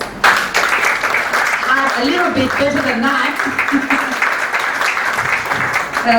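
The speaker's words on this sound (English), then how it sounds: "I'd like you guys to clap for yourselves." An audience at a bazaar and exhibition event claps steadily throughout, a dense close applause with a speaker's voice talking over it.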